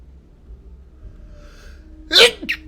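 A single sharp sneeze bursts out near the end, preceded by a quick inhale, with a brief snort-like tail after a quiet start.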